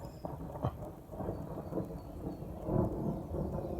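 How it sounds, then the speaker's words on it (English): Rolling thunder rumbles low and long over a small pasture during a windless storm, swelling and fading across several seconds, with light rain patter and a few drops in the background. "I call that rolling thunder."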